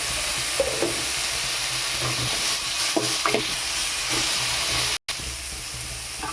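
Bottle gourd sautés in a pan with a steady close sizzle and hiss, broken by occasional stirring scrapes, with one brief dropout, and no talk.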